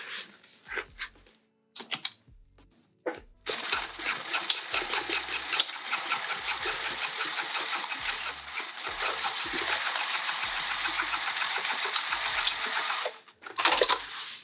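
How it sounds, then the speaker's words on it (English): Sewing machine stitching straight across the seam of a see-through tote bag, with a few short bursts and clicks at the start, then a long steady close whir before stopping, followed by a last brief burst. "We're going to sew straight across."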